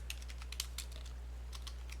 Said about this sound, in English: typing in your name